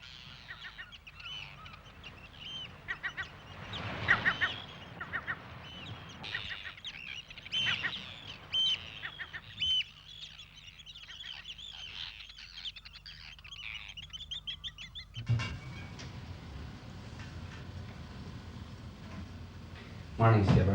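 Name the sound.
seabirds calling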